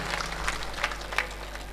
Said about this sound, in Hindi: एक बार जोरदार मन भर के ताली बजा दीजिए एक अंतिम गीत के लिए